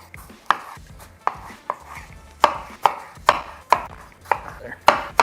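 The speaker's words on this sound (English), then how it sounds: "Next thing we're going to do is halve and quarter these tomatoes." Knife blade striking a cutting board as tomatoes are halved and quartered, about a dozen crisp, evenly spaced chops close to the microphone with no talking.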